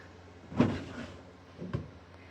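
A wooden dresser drawer slides and knocks twice, once firmly and then a bit softer about a second later. The sound is close and moderately quiet, with no voices.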